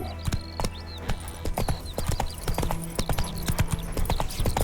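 Geralt's horse Roach from The Witcher 3: Wild Hunt trots with a steady, close clip-clop of hooves, a rapid rhythmic clatter that carries on throughout, with faint snorts and ambient game sounds underneath.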